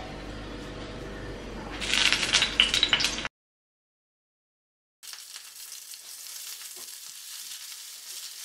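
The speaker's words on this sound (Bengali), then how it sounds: "প্রথমে পটলগুলো ভেজে নিই" Slices of pointed gourd frying in hot oil in a home kitchen give a steady, close sizzle that swells briefly, cuts to silence for about two seconds, then returns softer and even.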